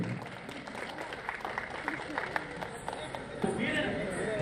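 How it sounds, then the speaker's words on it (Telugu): Audience at an alumni meet prize presentation for a junior college batch clapping in a steady, fairly loud burst of applause, mixed with crowd chatter and a voice over the top. "క్లాప్స్ కొట్టాలండి"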